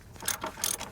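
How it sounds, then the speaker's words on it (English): A ratchet snugs a ball joint nut on the suspension of a 2007-2013 Chevy Tahoe, giving a few short bursts of close, crisp clicking with brief pauses between strokes. "Put the nut back on. We're just gonna snug it."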